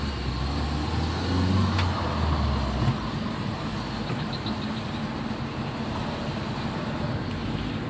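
A tuned-up Suzuki Soluna car drives in third gear, its engine a steady, fairly loud low hum with road noise, close and continuous throughout, with a brief heavier rumble early on.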